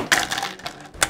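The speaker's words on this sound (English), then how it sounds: "we'll put our dice in the cup." Dice dropped into a cup for a game of Liar's Dice, two quick rattling clatters about a second apart, close and crisp with no talking.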